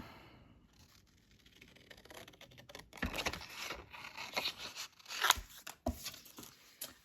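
Scissors cutting paper for a junk journal, quiet at first, then a run of close crisp snips and scrapes in the second half.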